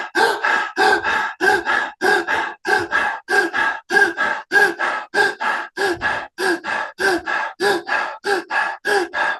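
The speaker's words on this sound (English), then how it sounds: "20 breaths" Deep, forceful breathing exercise: about twenty quick, even in-and-out breaths in a steady rapid rhythm, close and loud, with no talking.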